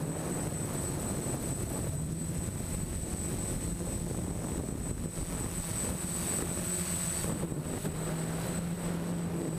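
A DJI F550 hexacopter drone flies a fast speed run in a crosswind, its propellers giving a constant, even whirring drone with a thin high whine and no breaks.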